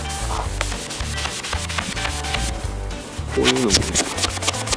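Rubbing and buffing on the hull of a used Yamaha STR-15 boat, a steady close scrubbing texture with short rhythmic strokes, while someone talks over it.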